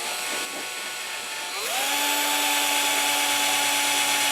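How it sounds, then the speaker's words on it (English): A power drill spins up and bores slowly through a leather knife sheath, a steady mid-pitched whine holding close and loud after a short start-up, with no voices. "If you drill slowly"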